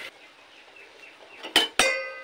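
A metal lid set onto a pan of long beans steaming in a kitchen gives two sharp clanks in quick succession near the end, ringing briefly, after a stretch of faint low kitchen noise.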